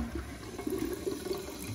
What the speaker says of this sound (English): Let's give it a flush here.